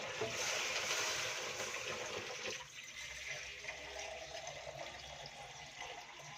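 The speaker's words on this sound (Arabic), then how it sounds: "بصوا بقى بزود الميه كلها مره واحده عشان اسيبها بقى مع نفسها" Cold tap water gushing from a kitchen faucet into a cooking pot, a steady splashing rush that eases off partway through, heard close and alone.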